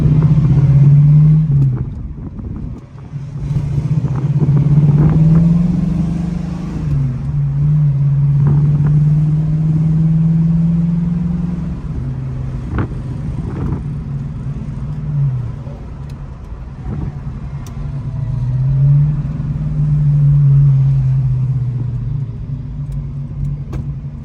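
A 1979 AMC Spirit AMX engine with a four-speed manual hums steadily while driving, with a low drone that rises and falls as it revs and shifts, and road noise underneath.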